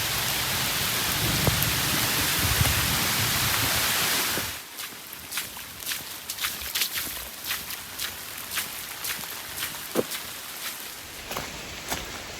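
Steady broadband rain noise on the Appalachian Trail fills the first few seconds, then gives way to lighter, sparser raindrops pattering on a surface with scattered distinct drips.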